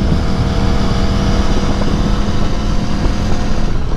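A 2018 Aprilia Tuono motorcycle engine roars steadily during a test ride, loud and close, blended with heavy wind rush and no break in the drone.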